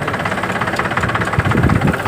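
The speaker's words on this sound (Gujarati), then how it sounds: "ડ્રાઈવર વગર મેં ટ્રેક્ટર હાલ્યો આવે" A tractor engine running while moving, with a steady close, loud mid-low rumble and a rapid knocking beat that grows slightly stronger toward the end, with no talk.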